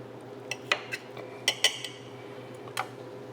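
Cutlery scrapes and clinks against a plate while cutting into an eggs brunch dish with anchovies and rose sauce, a handful of sharp light metallic taps spread irregularly over a quiet room.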